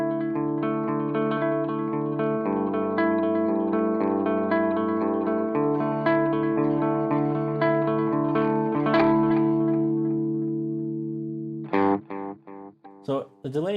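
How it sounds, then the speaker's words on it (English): Clean guitar chords played through an ENGL Ironball E606 SE amp on its clean channel, with delay and reverb adding echoing repeats and a lingering tail; sustained strums ring for about twelve seconds, then a few short, choppy hits close it out. "let's check out the delay and the reverb"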